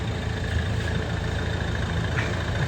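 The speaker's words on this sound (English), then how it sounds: "That's a complete exhaust blow there." A Ford Kuga idling with a blowing exhaust flange, a steady, close engine rumble with a continuous breathy hiss and a faint chuffing over it, running alone without any talk.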